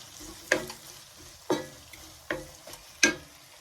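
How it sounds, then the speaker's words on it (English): Onions sautéing in melted butter in a pan, with a steady soft sizzle and four distinct stirring scrapes spaced about a second apart, no voices. "We're gonna saute this till it's nice and translucent."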